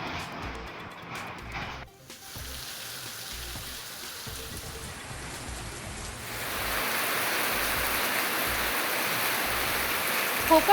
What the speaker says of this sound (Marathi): सांगलीमध्ये 8 दिवसांपासून संततधार पाऊस सुरू.